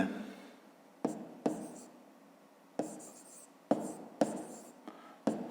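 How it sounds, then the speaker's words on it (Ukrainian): Pen or chalk writing out triangle labels during a fifth-grade maths exercise: a series of short scratchy strokes in bursts with gaps between, close and fairly quiet. "Пишемо трикутник."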